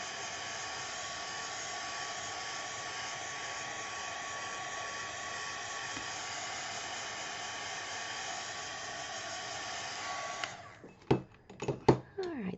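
Hair dryer blowing at a steady, close whoosh over a wet watercolor painting for about ten seconds, then switched off, followed by a few sharp handling clatters.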